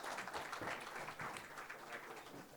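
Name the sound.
audience applause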